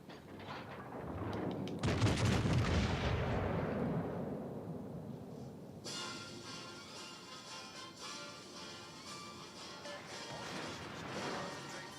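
Naval artillery in the World of Warships: Legends game, a heavy booming salvo crash that rumbles and decays, then sustained ringing, crackling battle noise, close and loud.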